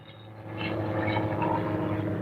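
A small propeller plane drones overhead above a beach, its steady engine hum swelling from fairly faint to a louder, sustained pass.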